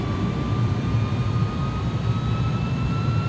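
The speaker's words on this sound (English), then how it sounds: "And you can hear the engine surging back up." Steady GE jet engines on an iniBuilds A300-600R in a flight simulator game, a loud continuous roar with thin whining tones running across the whole stretch, spooling up and holding without any voice over it.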